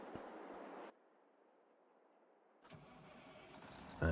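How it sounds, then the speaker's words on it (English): Truck engine in a farming video game starts from a quiet pause, cranking briefly before rising into a low running rumble, preceded by a short burst of background sound and no talking. "let's get the truck started up"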